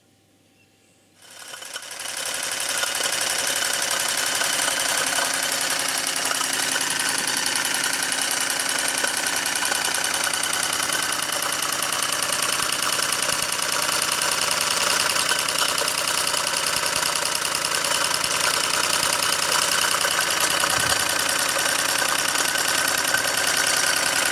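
A Markie GEM model steam road roller engine running on steam for the first time, fired by a small gas burner, rises quickly into a steady, fast mechanical clatter that stays loud and close throughout.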